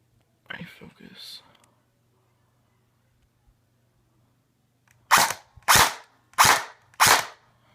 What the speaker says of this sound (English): Alright, and now proof that it works with BBs.